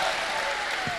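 A dense, steady wash of audience clapping fills a live crosstalk comedy show, loud and continuous for about a second.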